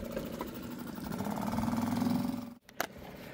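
The outboard motor of a small fishing boat carrying three people out to sea for hook fishing drones steadily nearby, then briefly cuts out and sputters back near the end.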